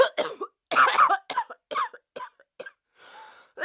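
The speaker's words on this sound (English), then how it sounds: "did you just cough on me?" A series of close, sharp coughs, several short bursts spaced unevenly over a few seconds with brief silences between, ending in a longer raspy exhale.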